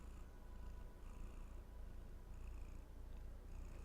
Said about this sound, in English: Oh, you brought the purrs